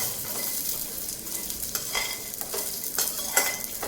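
Frying and stirring in a pan while making bottle gourd halwa: a continuous sizzle with repeated spatula scrapes and light metal clinks, close and moderately loud, no talking.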